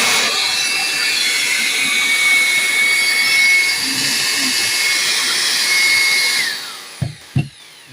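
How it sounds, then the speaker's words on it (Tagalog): An electric industrial blower run in vacuum mode roars loudly and steadily for several seconds, then cuts out, leaving a few brief knocks and thumps. "Ganyan gumamit ng ganitong klaseng industrial blower."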